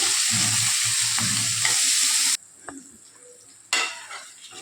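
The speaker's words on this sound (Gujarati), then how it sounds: "આદુ અને મરચાં લીમડાના પાન એ બધું સરસ રીતે નાખી અને આમને સારી રીતે કૂક થવા દઈશું" Vegetables sautéing in a pan with ginger, green chillies and curry leaves for sambar, with loud close sizzling and stirring that suddenly drops away, then returns.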